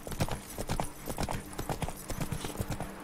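The horse Roach gallops in The Witcher 3, a steady rapid clip-clop of hooves on the ground that fills the moment alone and fairly loud.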